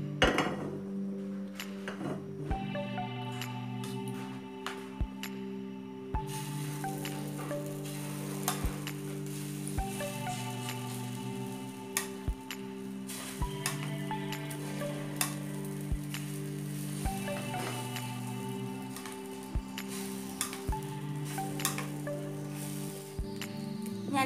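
An egg and banana dosa fries in ghee in a pan, a steady close sizzle and crackle running throughout, broken by sharp utensil clicks and taps at intervals.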